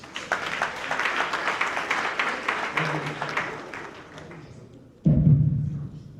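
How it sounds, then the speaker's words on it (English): An audience gives a round of applause during goodwill messages at an agricultural gathering, dense clapping that fades out before a thump and a voice come in. "Another round of applause, please."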